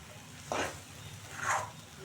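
Seeds splutter in a hot pan over full gas, two short sizzling pops rising over a low background hiss, close but fairly quiet.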